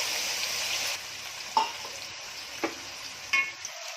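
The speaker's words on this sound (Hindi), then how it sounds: "अब इसमें सब अपना प्याज जाएगा" Onions going into hot oil with whole spices for a chicken dish, a steady hissing sizzle that drops back after about a second, then a few sharp stirring clinks over a softer ongoing fry.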